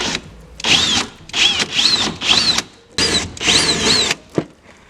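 A power tool unthreads the bolts on a 2010–2012 Ford Mustang tail light, whirring in short repeated bursts of rising pitch with brief pauses between, close and loud.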